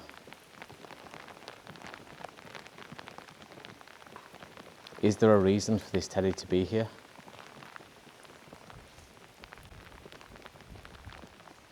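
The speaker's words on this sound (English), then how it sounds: "And it's raining, so..." Steady rain patters on a surface throughout, while a person briefly speaks partway through.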